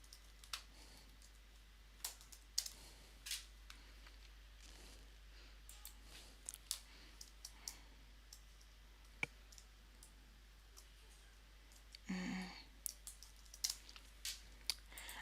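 Typing on a computer keyboard: sparse, faint, irregular key clicks spread across a quiet room with a steady low hum beneath, plus one brief louder rustle near the end.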